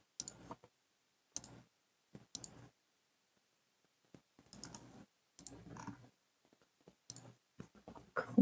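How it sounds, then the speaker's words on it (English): Computer mouse clicks at a desk during mod work for Dragon Age: The Veilguard, sparse, close, sharp clicks in small clusters separated by silent gaps. "So I'll click over here and add these guys."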